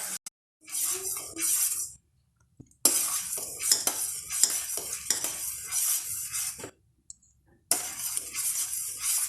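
Custard pudding is stirred in a pan until it thickens, with bursts of scraping, clinking utensil strokes against the metal separated by short pauses, close and moderately loud.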